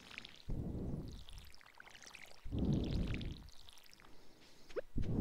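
Water splashes out of a watering can onto crops in Stardew Valley in two soft, separate pours with a few small drips between them, quiet and close.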